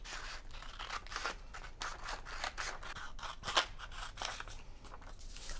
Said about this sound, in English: I'm going to go ahead and cut out this little pattern and I'll just cut it into a square